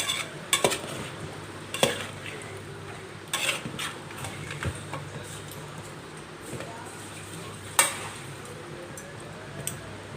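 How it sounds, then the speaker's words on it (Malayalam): Homemade chicken curry simmers in a pot while a spoon stirs it, with scattered metallic clinks and scrapes against the pot over a low, gentle bubbling. "ഇതിനകത്ത് ചിക്കൻ ചൂട് കയറി ഒന്ന് ചൂടായി തിളച്ച് വരുന്നുണ്ട് ഇടയ്ക്കൊന്ന് ഇളക്കി വയ്ക്കാം"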